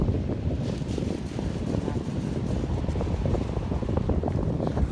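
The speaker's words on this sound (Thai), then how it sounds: "วันนี้ทะเลลมแรง" Steady roaring wind buffets the microphone on the beach at Thorupstrand, Denmark, a constant low rumble with no pauses, loud and close throughout.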